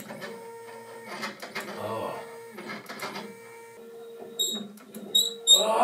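A cheap hobby CNC milling machine runs dry and needs lubrication, giving off whirring, squeaking motor and axis noises that come in uneven bursts. It is close and moderately loud, with a person speaking over parts of it.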